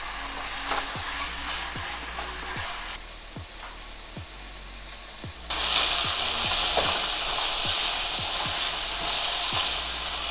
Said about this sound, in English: So we will stir fry the chicken out first.